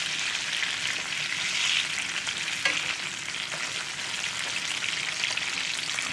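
A New York strip steak frying in butter in a cast iron skillet gives a loud, steady, close sizzle with light crackles and one brief clink, running unbroken with no talking.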